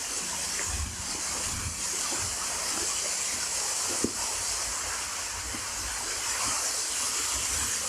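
A small waterfall in a cave on Réunion gives a steady broadband hiss of falling water at moderate level, with occasional faint knocks and no talking.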